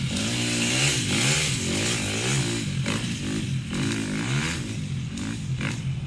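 A dirt bike engine revving hard through a corner on a training track: a loud, raspy motor rising and falling in pitch as the rider works the throttle and clutch, with no talk over it.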